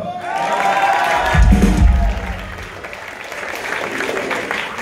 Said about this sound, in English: Oh, applause for Helena.